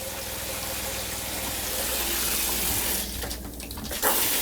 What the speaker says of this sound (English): And just run that till we get a nice clear stream coming out.